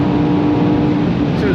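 A BMW S65 V8 drives a car at high speed on a highway, its engine a loud, constant droning roar mixed with road and wind rush that fills the whole stretch.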